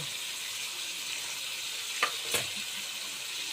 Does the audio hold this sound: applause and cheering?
no